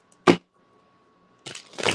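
A deck of tarot cards being shuffled up close, heard as one sharp riffling snap, a quiet gap with a faint hum, then a longer, rougher burst of card shuffling.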